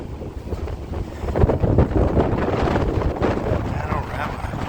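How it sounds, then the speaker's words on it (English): Strong wind roars steadily across the open deck of the Carnival Panorama cruise ship, loud gusty buffeting on the microphone with a swelling low rumble through the middle, and a voice speaks over it. "It's strong wind, guys. It's pushing me around."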